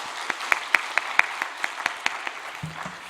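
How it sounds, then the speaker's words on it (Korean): A church congregation at a Wednesday gathering gives sparse, steady applause, a run of distinct claps in a loose rhythm over about three seconds in a quiet room, fading at the end. "우리 다시 한번 박수로 격려하겠습니다."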